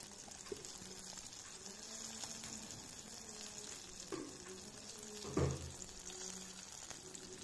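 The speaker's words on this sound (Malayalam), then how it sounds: "കുറച്ച് കറിവേപ്പില ഇട്ട് കൊടുത്തതിന് ശേഷം അതൊന്ന് മൂപ്പിച്ചെടുക്കണം" Curry leaves and dried red chillies fry in oil for a cassava dish, giving a steady soft sizzle with a few brief clinks of stirring, one louder near the end.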